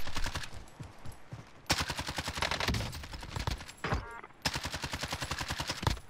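Rapid automatic gunfire in the video game Call of Duty Warzone, several loud close bursts of evenly spaced shots separated by short pauses.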